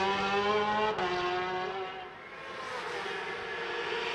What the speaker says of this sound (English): a motorcycle pre-practice session takes place here at the Macau Grand Prix